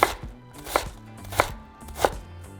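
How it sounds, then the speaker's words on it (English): A knife cuts an onion into small cubes on a board with four crisp, evenly spaced chops, close and clear, with no talking. "the other half of our onion, we're going to cut it into small cubes"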